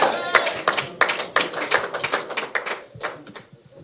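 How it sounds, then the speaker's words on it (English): Applause for a presidential candidate at a press conference, heard as a dense round of clapping from a moderate-sized group. It starts strong, then thins and fades toward the end, with faint voices underneath. "So another round of applause for our presidential candidate."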